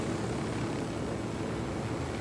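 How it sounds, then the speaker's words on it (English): A video game helicopter flies with a steady, dense rotor and engine roar that holds constant and loud throughout, with no talking. "we can fly straight from here in our helicopter right over"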